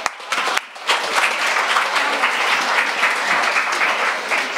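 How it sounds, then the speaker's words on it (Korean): An audience at a Korean speech event bursts into warm applause to welcome a speaker, dense clapping that starts abruptly and holds steady at full strength, fairly close and without talk. "큰 박수로 모시겠습니다"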